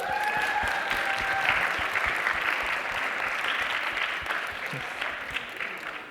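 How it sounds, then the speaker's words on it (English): A large audience at a leadership summit claps steadily in sustained applause that gradually tapers off, with no talking. "can we give another big round of applause?"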